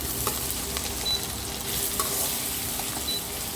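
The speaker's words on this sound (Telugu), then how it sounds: "అలసంద గింజలు దాన్ని వేసి ఒకసారి వేయించేసి తగ్గించుకొని పెట్టుకోండి" Boiled black-eyed peas fry in a pan with a continuous close sizzle and occasional light stirring taps, fairly quiet and without any talk.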